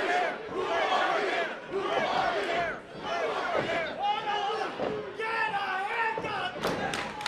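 A wrestling crowd at a tag-team match shouts and chants in loud, sustained waves, with a brief lull partway through and thuds mixed in.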